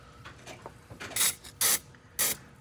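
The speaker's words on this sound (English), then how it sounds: "we have some deep creep spray, which is even better" Three hissing bursts of Deep Creep penetrating oil from an aerosol can, aimed at a stuck head stud on a 1937 Packard Super Eight engine, the middle and last bursts longest and loudest, preceded by softer rubbing and handling noises.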